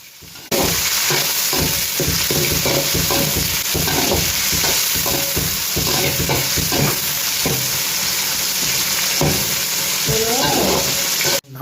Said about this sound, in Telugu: ఎర్రగడ్డ బాగా వేగింది కదా, ఇప్పుడు టమాటా వేసుకొని బాగా మెత్తగా వేగిపోవాలన్నమాట.